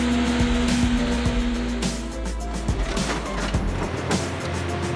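Heavy VTNS HEARCI 13000 steel cutter crushing and shearing old trucks during demolition, a loud continuous hydraulic drone with repeated metallic crunches and impacts.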